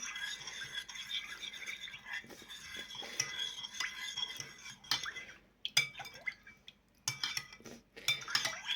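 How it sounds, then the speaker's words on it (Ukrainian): A utensil stirs vegetables and pepper in a baking dish for hake in tomato sauce, with repeated scraping and light clinks against the dish in an irregular rhythm, quiet and close. "Перемішуємо все."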